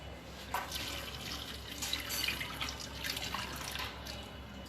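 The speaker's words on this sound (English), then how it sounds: "Okay, add enough water." Water poured into a cooker in a home kitchen makes a soft, continuous splashing trickle with scattered drips, fairly quiet and close, with no talking.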